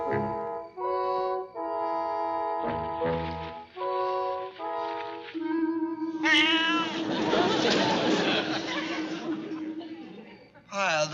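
A cat meows a few times amid a busy scene, with laughter and chuckling rising over the meows toward the end.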